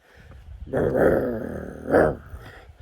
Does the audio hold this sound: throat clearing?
no